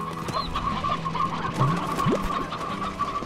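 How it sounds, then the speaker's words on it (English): Chickens clucking in the farming game Slime Rancher, a busy overlapping flock of short clucks and squawks over a steady ambient game backdrop, with no talking. "we have way too many chickens here"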